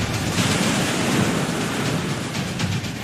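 Stormy winds and crashing waves during a storm in Gwadar, a dense continuous roar of surf and gusts buffeting the microphone, loud and unbroken with no speech.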